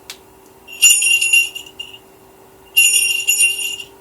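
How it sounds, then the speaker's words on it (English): A small jingle bell rings in two bright, shimmering bursts separated by a short pause, close and fairly loud. "The jingle bell makes a great doorbell for the lions."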